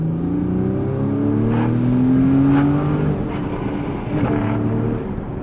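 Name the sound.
Porsche Cayman GTS engine with sports exhaust accelerating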